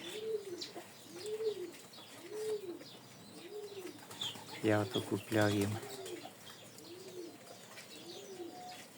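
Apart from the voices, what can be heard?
pigeons cooing and pecking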